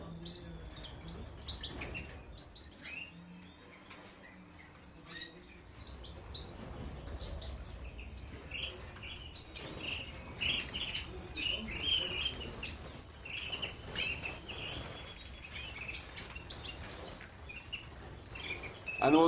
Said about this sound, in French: Un oiseau, bon ben, c'est gai, ça chante.